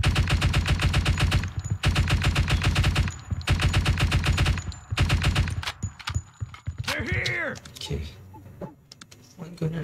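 Machine gun fire in the tactical shooter Door Kickers 2 comes as long, loud, rapid bursts with short gaps, then gives way to scattered clicks and a brief voice near the end.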